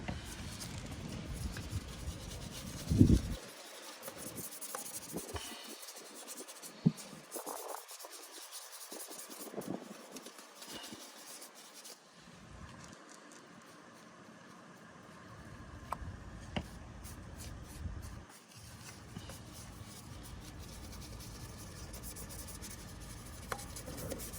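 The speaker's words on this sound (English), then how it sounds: "Adding a little bit of pressure to the brush." A delicate brush rubs and scrubs water spots off a surface with light pressure, producing a quiet continuous rasping with small ticks and a few brief pauses, alone without voices.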